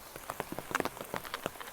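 Rain falling on a trail outdoors, a soft steady patter with scattered distinct drops tapping nearby surfaces, fairly quiet and without voices.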